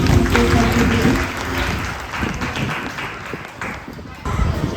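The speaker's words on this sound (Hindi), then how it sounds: "एक बार जोरदार तालियां" An audience applauds at an arts and culture programme held by a foundation, a loud, uneven wash of clapping that rises and falls while a voice speaks over it.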